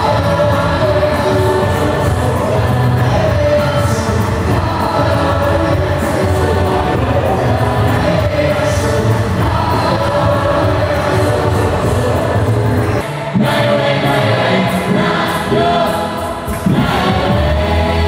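A large crowd at a Red Bull Show event fills the whole stretch with loud, sustained applause and cheering, a dense continuous roar with a brief dip near the end.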